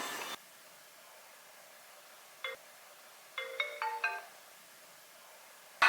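Mobile phone ringtone sounding as a call is placed: a brief electronic tone, then a short melodic phrase of bright beeping notes, moderately faint over a quiet background with no talking.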